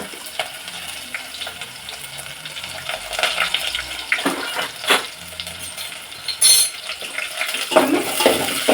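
Garlic and onions hit hot oil in a pan for a sambar tempering, giving a bright crackling sizzle with clinks of a spoon or pan scattered through it at close range.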